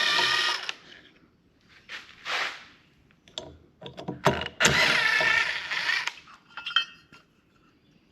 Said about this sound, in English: Let's grab our drill here and just pull these 2 screws in the back off.